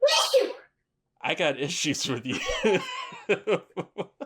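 A sharp sneeze bursts out at the start during a lighthearted gathering, followed after a brief pause by close, animated talking and laughter-like chatter.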